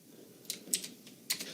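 Computer keyboard typing during programming: a few short, crisp key clicks spaced irregularly over a quiet background, close and fairly soft.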